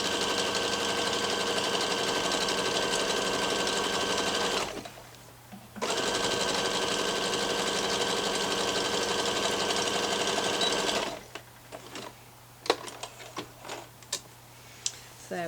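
A sewing machine stitches straight seams on children's elasticated-waist shorts in two long, steady runs of close, even whirring, separated by a short pause and followed by a few light clicks and handling taps.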